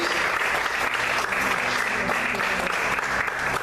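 A church congregation applauds in praise, steady dense clapping from many hands that fills the room at an even level throughout, loud and sustained with no break.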